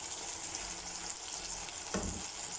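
Capsicum and potatoes fry in a pan with red chili and turmeric, giving a soft continuous sizzle and one brief stir near the end, with no talking.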